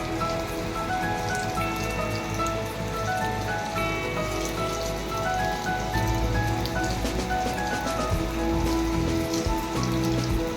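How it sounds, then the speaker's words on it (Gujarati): Monsoon rain pours over a Gujarati village farm, a steady close patter of drops hitting surfaces with faint bird calls threaded through and no talking. "તડકો છે ને વરસાદ ચાલુ છે"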